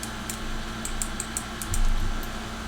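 Small clicks of a wired computer mouse's buttons, tested up close to the microphone, land as a handful of sharp, light ticks spread over a few seconds against a steady hum of air conditioning.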